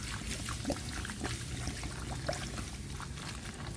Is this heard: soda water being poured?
yes